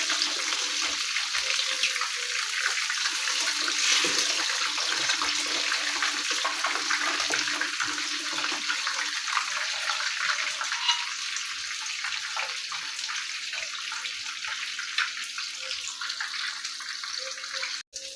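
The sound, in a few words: fish frying in a pan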